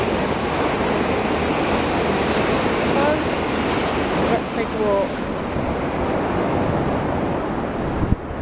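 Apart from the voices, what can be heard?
sea waves at Blackpool promenade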